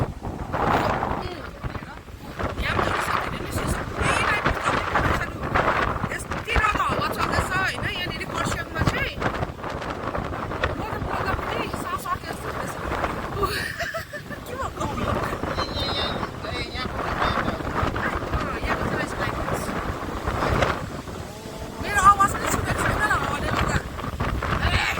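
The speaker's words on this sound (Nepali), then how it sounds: "ए भगवान् कस्तो हावा चलेको" Strong gusting wind roars steadily across a microphone outdoors in Kurseong during a storm, a dense rushing bluster throughout with a voice speaking over it.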